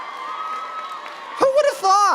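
Large crowd at a university humanities commencement ceremony breaking into cheers and whoops, steady murmur at first then a loud burst of shouting and cheering near the end.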